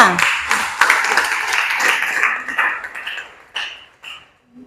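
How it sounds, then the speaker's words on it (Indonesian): A class applauds a student group after its presentation. A burst of many hands clapping is strongest at first, then thins out and fades into a few scattered final claps. "beri aplaus untuk kelompok 5"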